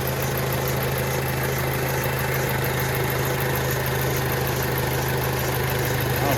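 The 2.0-liter turbo engine of a 2006 Audi A4 Quattro idles steadily with a low, even hum and a constant hiss, heard close from the open engine bay with no talking.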